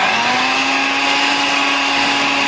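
An electric mixer beats flour into carrot cupcake batter, giving a loud, steady whirring motor drone with a constant pitch that runs unbroken the whole time.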